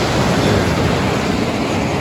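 Steaming hot water from the Tapt Kund hot spring at Badrinath rushing out in a steady, loud, broadband roar, continuous and close, with no voices over it.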